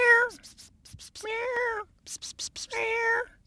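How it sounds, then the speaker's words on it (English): A cat meows repeatedly up close, three drawn-out cries with short gaps, while people talk and whisper around it. "there's a cat right here"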